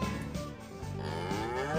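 A cartoonish cow moo from the video game Mooo! rings out alone, a single sustained, close and fairly loud bellowing call with a drawn-out, wavering tone.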